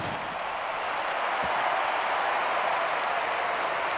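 Steady crowd applause and cheering at a London 2012 Olympics sports game, a dense, even wash of clapping that holds at a constant moderate level throughout.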